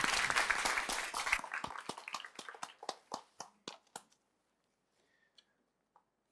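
Applause from the audience at a women in agrifood summit, a loud burst of crowd clapping that thins to scattered individual claps and dies away into near silence, with a few faint late claps.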